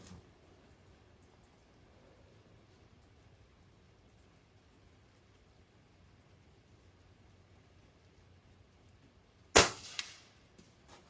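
A single sharp shot from a Gamo CFX .22 air rifle fired outdoors at a 50-yard target, one crisp crack near the end after a long stretch of quiet ambient background.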